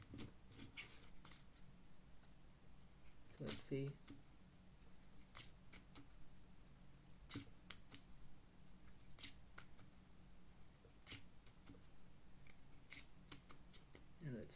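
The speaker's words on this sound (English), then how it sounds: "I'm just shuffling." Playing cards being shuffled during a home poker game, a series of short crisp riffles and snaps recurring every second or two, with a voice talking softly over parts of it.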